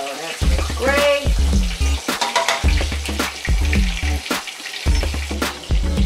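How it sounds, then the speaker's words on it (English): Chicken pieces fry in peanut oil in a pan on high heat, giving a steady loud sizzle that runs beneath a person talking throughout. "We're gonna start frying the chicken."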